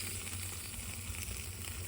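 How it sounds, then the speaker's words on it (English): Butter-dunked steaks sizzle on a Blackstone griddle skillet, a soft, steady hiss and crackle that stays faint and even with no other sounds. "I'll dunk in the butter and throw them on the skillet"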